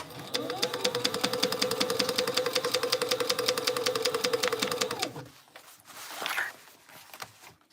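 A sewing machine stitches a backpack with a fast, even rattling rhythm for about five seconds, close and loud, then stops, leaving quieter handling noises.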